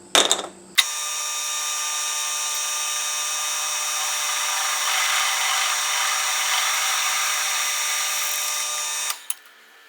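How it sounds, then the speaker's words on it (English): A power drill boring a hole while building a squib: a short start, then a steady, loud high whine held for about eight seconds before it winds down and stops, with no talking. "So let's get this thing drilled, get this thing cut off, and put them together."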